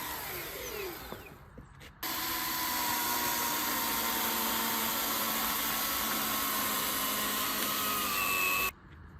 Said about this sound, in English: We used a chainsaw.